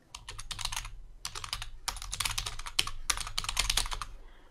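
Keys clatter in quick bursts of typing on a computer keyboard, several short runs of clicks separated by brief pauses, close and clear with no talking.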